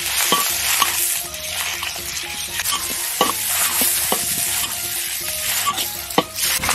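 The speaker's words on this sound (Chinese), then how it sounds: "盐、醋、蒜末爆香" Chili, salt, vinegar and minced garlic hit hot oil in a wok and are stir-fried, a loud close crackling sizzle broken by repeated sharp spatula scrapes and clacks.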